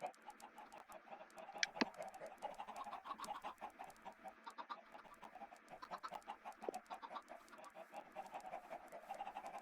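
Chickens in a video game cluck and chatter continuously, a busy flock of faint, overlapping bird calls with a steady background bed and no talk.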